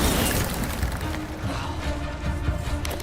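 An Incendio fire spell cast in the Hogwarts Legacy video game brings a loud, roaring burst of fiery crackle and rumble that fills the short stretch amid busy combat noise.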